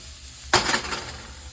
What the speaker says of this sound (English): So we're going to let this saute down. Give it a little stir to start.